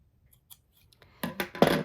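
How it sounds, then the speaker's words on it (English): Scissors trimming threads while sewing a wired bra, a few faint ticks followed by three or four crisp, close snips in quick succession. "So trim them off."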